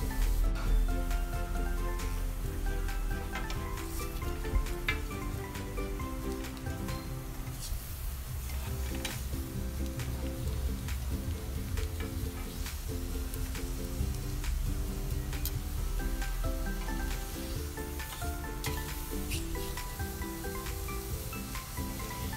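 Stuffed squid sizzles in a pan as it browns, a soft continuous crackle and hiss with faint pops, steady and fairly quiet for the whole stretch.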